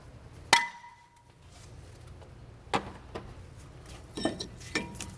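A hammer strikes the brake disc on a 2003–2014 Volvo XC90 P2 during front brake and rotor replacement: several sharp metallic whacks spaced apart, the first loudest with a ringing tail, the rest softer.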